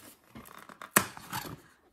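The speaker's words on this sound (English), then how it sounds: "So I just removed the band, the plastic band." A plastic band is pulled off a package in a few short snaps, with one sharp, loud snip or tear in the middle and softer crinkling around it, close up and quiet.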